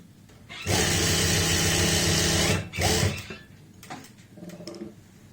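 An electric sewing machine stitches elastic onto palazzo pants, running in one loud continuous burst of about two seconds, then a short second run and a few faint brief whirs.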